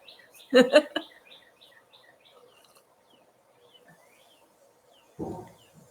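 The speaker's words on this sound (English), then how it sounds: "I thought I'd just come out here on the porch, listen to the birds" Light bird chirps and tweets drift in from outdoors, heard from a porch, with brief bursts of louder nearby sound at the start and near the end.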